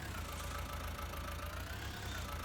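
A Ford 6810 tractor idles in Farming Simulator 19, a steady low engine rumble with a faint whine above it, holding even and unbroken throughout with no talk.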